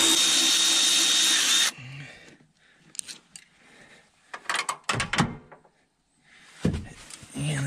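Power tool on 10 millimeter bolts during Mustang GT 4.6 engine removal: a loud impact-style burst for under two seconds, then quieter clinks, clunks and handling noises of parts, with brief speech.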